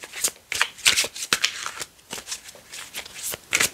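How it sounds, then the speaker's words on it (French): A deck of tarot cards being shuffled up close, the cards riffling and slapping together in quick repeated bursts with short pauses between them. "Je vais prendre aussi les cartes tarot."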